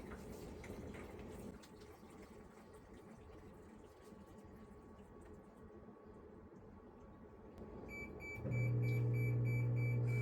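A HAVA countertop portable dishwasher fills with a quiet, steady rush of water. Near the end the sound grows louder and a loud electronic tone and repeated beeps join in.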